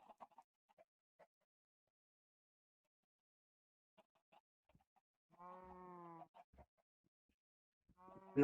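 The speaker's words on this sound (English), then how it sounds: "This side, this is my cow and sheep part." On a blocky Minecraft farm, a sheep lets out two quiet, wavering bleats near the end, after faint scattered clucks and clicks amid long near-silence.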